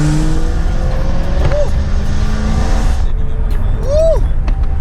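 Loud BMW M3 engine roaring continuously, with two rising-then-falling rev blips as it downshifts, heavy low rumble throughout and close to the microphone.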